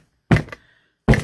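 A soap mold filled with pumpkin spice soap is banged down on a hard surface, giving two close, dull thuds about three-quarters of a second apart.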